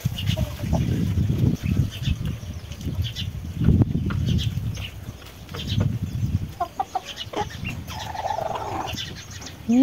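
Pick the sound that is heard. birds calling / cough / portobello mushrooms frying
birds calling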